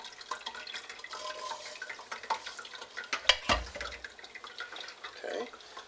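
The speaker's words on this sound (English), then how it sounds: "I'm using my wooden spoon. I'm just going to work this around gently." A wooden spoon gently stirs strained red cabbage liquid, giving soft watery swishes and drips with a few louder clinks and sloshes near the middle, fairly close and quiet.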